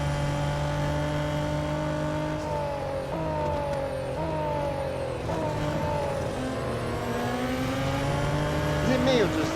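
Race cars in the Real Racing 3 video game drone steadily with rising and falling engine revs as they shift gears, loud and continuous throughout with the tone sweeping repeatedly.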